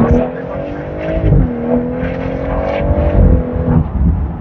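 A Mercedes A35 with a stage 2 tune revs its engine, a loud close drone that climbs and settles in pitch with gravelly bursts, while people talk over it.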